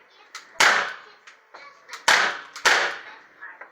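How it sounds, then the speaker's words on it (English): 6mm Glock 19X Gen 3 BB pistol fires three sharp, snappy shots, the second and third close together, with faint clicks and handling noises between them, no talking. "Now let's try the 6mm Glock 19X Gen 3."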